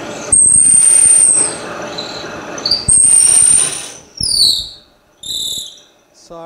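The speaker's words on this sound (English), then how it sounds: "This is going to squeal." Several sharp, high-pitched squeals of wood or metal being worked during furniture repair, the first long and steady, then shorter bursts sliding in pitch, loud and close, with gaps between them.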